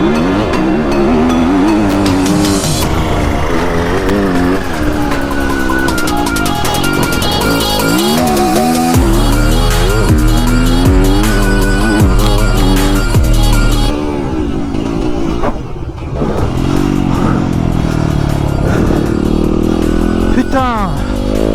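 A motorcycle on its stock exhaust is ridden through mud, its engine loud and close, rising and falling with revs. A rider talks over it.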